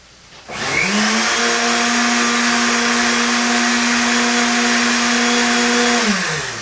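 Countertop blender whirring through tomatoes and chilies for red salsa: it spins up sharply, runs as a loud, steady motor drone with a strong pitched whine for about five seconds, then winds down.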